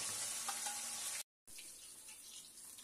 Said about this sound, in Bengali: তারপর ইলিশ মাছে সামান্য নুন আর হলুদের গুঁড়ো মাখিয়ে সেটা গরম সর্ষের তেলে